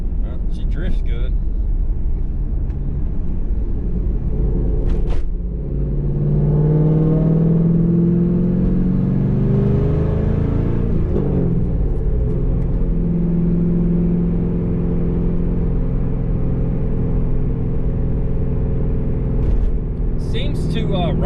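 A Pontiac Trans Am WS6 on BMR aftermarket suspension rolls over bumps with a steady low engine rumble and road drone, a few sharp knocks and thumps from the rear end hopping, while a person talks over the ride.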